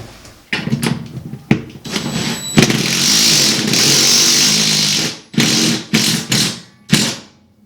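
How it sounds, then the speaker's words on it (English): A power drill bores into a wall to mount a barn door rail, loud whirring bursts separated by short gaps, with one long sustained run in the middle and several brief pulses after it. "I'm going to drill on this side, mount the rail, and then fill"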